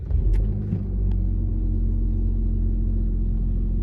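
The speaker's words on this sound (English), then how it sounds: "Okay, the car's on." A rebuilt salvage-auction Audi A7 starting up, a brief cranking burst followed by the engine settling into a steady, loud low idle rumble heard close by, with no voices.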